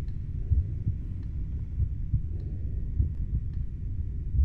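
A rhythmic heartbeat thumps steadily in the horror video game Fatal Midnight, low and throbbing over a dark ambient hum, with no talking.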